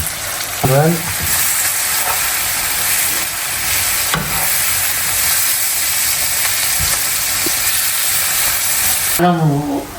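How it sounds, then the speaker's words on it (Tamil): Onions sizzle loudly and steadily in a hot pan for restaurant-style devilled prawns, with a few scraping stirs near the start and end. "வெங்காயம் பொரிஞ்சோண்டு மூக்க துளைக்குது."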